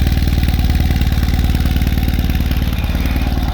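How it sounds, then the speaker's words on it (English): A 2021 Ural Limited Edition GEO motorcycle idles with its exhaust running close and loud, a steady, even, rapid lumpy chug throughout with no talking. "Let you hear the exhaust on idle for a moment."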